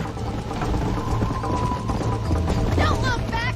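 Horse hooves clip-clop at a steady gallop in the Red Dead Redemption video game, a continuous close rhythmic thudding under a busy game soundtrack, with a short whinny-like tonal cry near the end.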